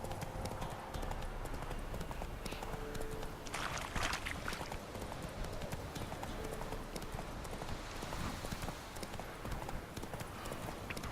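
Roach the horse's hooves clip-clop steadily in Witcher 3 on Death March difficulty, a continuous rhythmic trot heard up close with game ambience and a brief whinny-like flourish midway.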